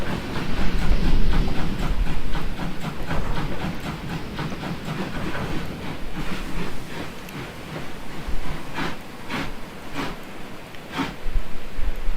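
An old diesel locomotive in the Trainz railway simulator game rumbles along steadily, with repeated clickety-clack of wheels over rail joints and some hiss. The running noise stays continuous and fairly loud throughout, with no talking.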